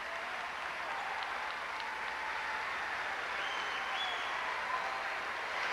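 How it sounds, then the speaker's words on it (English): Applause from a crowd in the bleachers at a high school basketball championship game fills the whole stretch as a steady, moderately distant wash of clapping with no voices on top. "Let's listen to the round of applause for Mike Manning"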